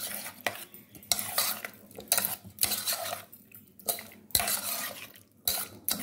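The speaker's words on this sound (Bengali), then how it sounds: "খুব ভালো করে মেশাবো আমি এটা।" Spoon stirring and mixing veg biryani ingredients in a metal pot, repeated scraping and clinking strokes at close range, fairly quiet, with no talking.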